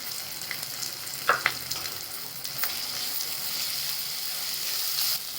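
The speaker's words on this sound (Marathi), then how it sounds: "आता फोडणीमध्येच कोथिंबीर टाकून द्यायची म्हणजे त्याने चव चांगली येते" Coriander leaves frying in hot tempering oil for a cauliflower bhurji, a steady close crackle and sizzle with a couple of sharper pops and brief stirring scrapes near the start, no talking.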